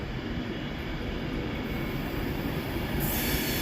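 Class 390 train 390155 passes through Carlisle on its way from Glasgow Central to London Euston, a steady loud rolling rumble with a high wheel squeal running through most of the pass. No one speaks.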